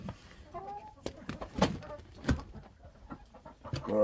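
A hen clucks inside a chicken coop in short, irregular bursts close by, mixed with faint rustling and other farmyard noises.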